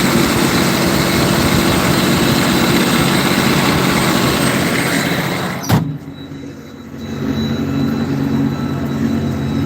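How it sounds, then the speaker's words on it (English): A 380 HP Caterpillar 85D tractor's diesel engine, about 729 cubic inches, drones loud and steady during fall tillage; a sharp knock midway briefly dips the roar before it swells back. "This here is almost 729 cubic inches of raw Caterpillar diesel power."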